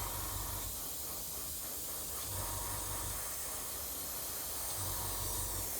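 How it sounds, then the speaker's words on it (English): Spray paint hisses from a nozzle clogged with built-up paint, a faint, close, continuous spray that sputters unevenly, with no voices. "see the spattering then? That's where the paint is building up on the nozzle."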